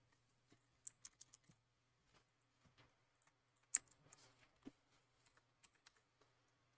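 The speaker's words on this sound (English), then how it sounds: "Hopefully the noise suppression gets the most of the keyboard, because I have blue switches now" Bursts of clicky typing on a mechanical keyboard with blue switches, quick clusters of sharp, fairly close keystrokes separated by pauses, with no talking.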